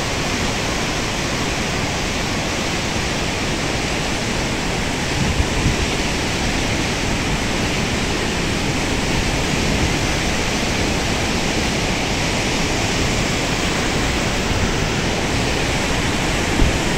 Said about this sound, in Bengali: এখানে দুইটা ঝর্ণা আছে